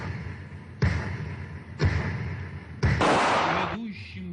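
Three sharp gunshot volleys of a funeral salute fired outdoors in Chechnya about a second apart, each followed by a brief echo, then a longer burst of noise.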